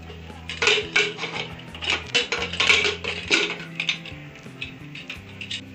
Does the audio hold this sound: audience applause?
no